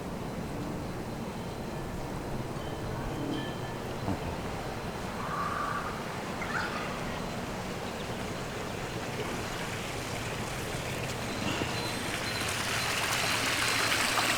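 Water trickles and splashes steadily at a koi pond beside a farm flower bed, a continuous close wash of running water lasting throughout with no voices.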